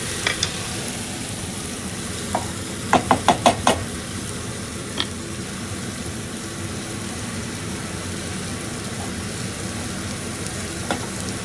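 Sirloin steak sizzling in a pan, a soft steady hiss with a few quick knocks of a utensil early on, otherwise continuous and fairly quiet.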